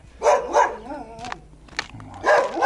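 A dog barks twice in quick succession, close by, then gives a short whine before a final burst of barking.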